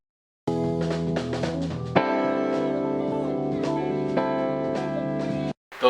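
Electric guitar run through a transient shaper with its attack boosted by 2 dB, playing a steady chordal part with crisp, sharply defined note onsets, heard alone and fairly loud for about five seconds.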